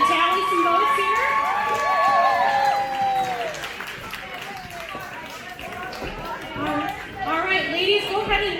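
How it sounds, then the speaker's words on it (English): A car show crowd claps and cheers for pin-up contest entrants. Whoops and shouts rise over the applause, and scattered chatter carries beneath it as the noise gradually eases. "Let's give them one last big round of applause,"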